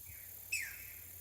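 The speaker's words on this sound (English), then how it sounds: "Weird sounding bird." An odd bird call rings out once on a fishing outing: a single sharp, whistled chirp that slides downward and stands out against quiet background hiss.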